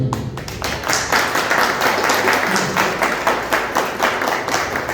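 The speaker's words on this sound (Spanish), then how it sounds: "Y le damos un aplauso." Applause breaks out from the audience at a book presentation, a close, rhythmic patter of hands with scattered taps and thuds, steady and fairly loud across the whole stretch, with no voices.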